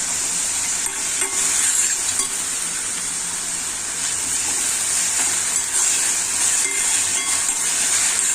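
Onion and tomato frying with salt in a pan for a spicy Malvani dried shrimp dish, giving a loud, steady sizzle with scraping stirs throughout, no voices.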